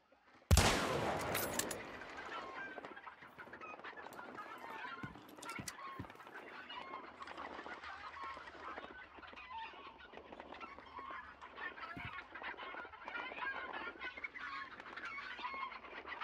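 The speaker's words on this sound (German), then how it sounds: "Die Hühner gehen mir am Sack." Chickens clucking in the video game Hunt: Showdown, a sharp burst at the start followed by a steady bed of overlapping clucks and squawks that carries on close and fairly loud throughout.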